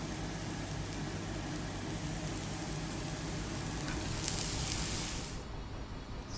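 Grated white radish hits a hot pan with turmeric and salt for a village-style radish dish, giving a steady broad sizzle that holds for several seconds, swells briefly, then drops off as the frying settles.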